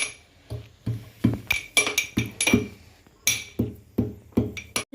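Cardamom and ginger pounded in a mortar and pestle for masala tea, a run of sharp, ringing clinks in an uneven rhythm, close and loud, with a brief pause midway before the strikes resume.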